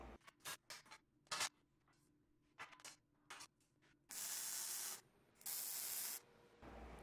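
Tack welding on the upper tier of a steel welding cart: a string of short crackling bursts, then two longer steady sizzling welds, close and loud with no talk.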